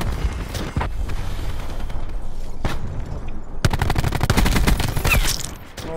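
Shotgun and rapid gunfire in the video game Black Ops 4, with scattered heavy blasts followed by a sustained dense volley of shots near the end, loud and close with no talk.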